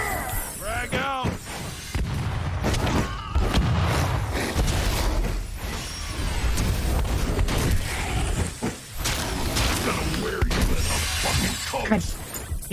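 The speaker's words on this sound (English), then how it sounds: "Frag out!" Frag grenade blast in the Werewolf: The Apocalypse – Earthblood video game, a loud shattering boom amid a continuous dense din of combat noise and crashes, with voices and shouts mixed in throughout.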